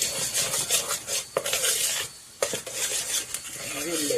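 Apple fritter batter being stirred with a spoon in a bowl: continuous close, wet swishing strokes with sharp clinks of the spoon against the bowl and a brief pause in the middle, loud and without talking.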